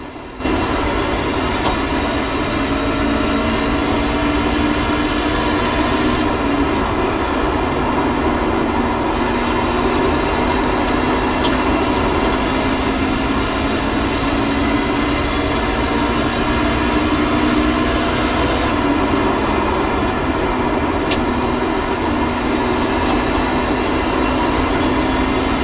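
A train rumbles past steadily and loud for the whole stretch, a continuous heavy roll of rail noise with no break or fade.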